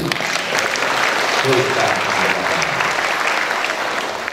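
An audience at a public Islamic studies lecture at a state college claps in sustained, dense applause that holds steady from start to finish, with a voice speaking briefly over it.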